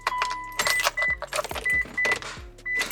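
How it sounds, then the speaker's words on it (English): A Mitsubishi Lancer Evolution 8/9 ignition key pressed hard into the cylinder makes a series of close, sharp mechanical clicks and small metallic rattles, several spaced bursts over a few seconds with no talking. "Notice how it's clicking now."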